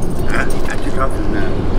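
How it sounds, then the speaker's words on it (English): A dog whimpers and yips in short, high bursts close by, half buried under steady men's conversation. "I apologize for my dog."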